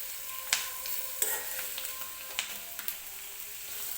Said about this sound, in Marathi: फास्ट गॅसवरतीच मी कांदा व्यवस्थित परतून घेणार आहे तेलामध्ये.